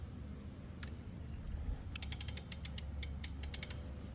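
Screws being tightened on an E Ride Pro mechanical pedal kit, a quick run of close ratcheting clicks after a lone early click, quiet over a low room hum with no talking.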